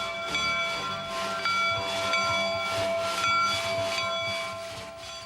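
A transcontinental train of the 1869 era rolls along with a steady rumbling clatter of wheels on rails and a hissing of steam, loud and continuous, with a whistle-like tone riding over it and no talking.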